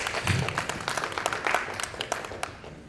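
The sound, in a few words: audience applause at a conference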